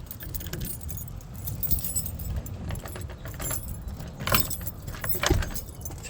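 A bunch of keys jangles in a home garage, with bright metallic clinks and rattles that come in short bursts, close to the listener.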